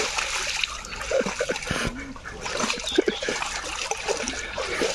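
Young bulls stepping and splashing into a garden pond, with sloshing water and trickling splatter close by over steady outdoor background noise.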